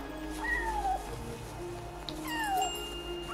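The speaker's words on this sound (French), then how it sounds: "Vous avez découvert chat marron tacheté." A brown spotted cat in the video game Yonder gives two clear meows, the second longer and falling, over a soft steady ambient background.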